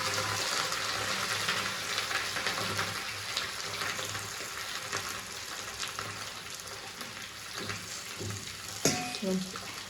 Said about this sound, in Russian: А мальчикам сейчас будем жарить картошку.